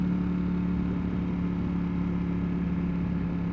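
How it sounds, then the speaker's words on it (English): A Ducati V4 Panigale motorcycle engine, a V4 with a V-twin-like note, holds a steady, loud, unbroken drone at near-constant revs from close by, with no talk. "It sounds exactly like a V-twin, but it's a V4."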